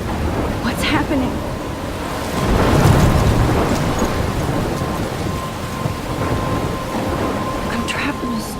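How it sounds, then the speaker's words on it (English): A thunderstorm rolls through the Life Is Strange video game: constant heavy rain hisses throughout, and a deep rumble of thunder swells near the middle before fading back into the downpour. "I'm trapped in a storm?"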